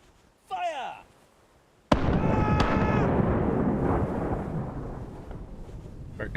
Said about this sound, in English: Our cannons at higher power